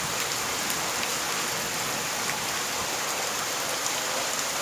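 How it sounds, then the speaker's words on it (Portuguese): Heavy rain pours down in the countryside, a loud, dense, steady hiss of drops hitting surfaces nearby, with no voices. "muita chuva aqui na roça."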